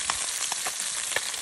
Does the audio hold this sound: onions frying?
yes